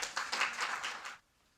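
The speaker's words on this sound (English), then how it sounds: "everybody, please give a round of applause for Cody Able coming to the mic" Audience applause at a state poetry recitation finals, a dense burst of clapping that carries steadily for about a second before stopping abruptly into near silence.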